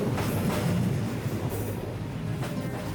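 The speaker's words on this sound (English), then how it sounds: "watching a train rumble through the narrow passageway" A train rumbles past close by through a narrow street in Hanoi, Vietnam, a steady heavy low roar with metallic clatter, continuous for the whole stretch.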